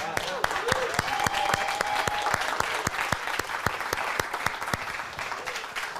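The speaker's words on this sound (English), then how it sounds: "Okay, let's do an applause with more energy" An audience applauds on cue at a lively group event, a dense wash of many hands clapping steadily for six seconds, with sharp periodic beats like a rhythmic clap or stomp cutting through and a tonal whistle or voice briefly above.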